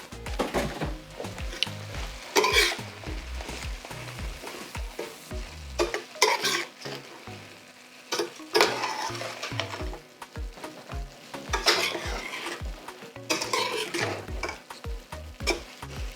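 Sliced button mushrooms sauté in a pan, sizzling steadily while a utensil stirs and scrapes them in irregular bursts, close up and with no talking.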